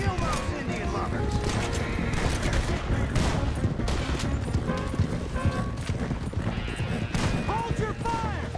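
A rapid shootout in Red Dead Redemption 2 fills the scene with volleys of gunshots, dense and continuous, mixed with galloping horse hooves and distant shouting voices throughout.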